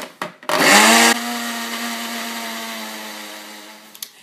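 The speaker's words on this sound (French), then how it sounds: "Pour cela, moi j'utilise un appareil à smoothie." Smoothie blender pureeing strawberries, a loud burst of blade whir that settles into a steady motor drone with a clear hum, running alone for several seconds before stopping.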